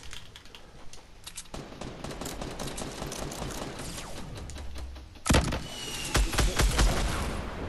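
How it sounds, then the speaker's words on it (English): Fortnite gunfire in a duos match: a dense run of rapid shots and clattering impacts, with a sharper, louder burst of fire partway through. Keyboard-like tapping mixes in. "Oliver, shoot him, Oliver, shoot him."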